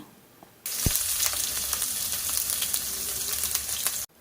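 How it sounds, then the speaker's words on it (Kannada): Chopped onion hits hot oil with cloves and cinnamon and starts frying at once, a loud steady sizzle that runs for a few seconds before cutting off abruptly. "ಒಂದು ನಿಮಿಷ ಇದನ್ನು ಮೀಡಿಯಂ ಫ್ಲೇಮಲ್ಲಿ ಫ್ರೈ ಮಾಡ್ಕೊಂಡ್ರೆ ಸಾಕಾಗುತ್ತೆ"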